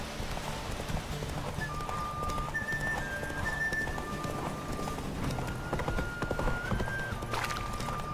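Roach the horse gallops in The Witcher 3, a fast steady run of hoofbeats with clip-clop rhythm under game music, continuous and fairly close.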